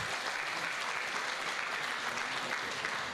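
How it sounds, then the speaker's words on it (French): Audience applause at the closing of an economic conference in Aix-en-Provence, a continuous, even wash of many hands clapping, moderately quiet and unbroken. "N'hésitez pas à continuer à applaudir"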